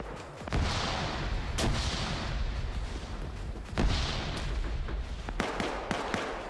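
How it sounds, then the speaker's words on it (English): Santa's sleigh cooking off in the distance in the Arma 3 game, muffled booms and cracks of detonating ammunition recurring irregularly over a constant rumbling battlefield background. "you can still hear the sleigh cooking off in the distance"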